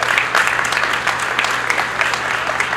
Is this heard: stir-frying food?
no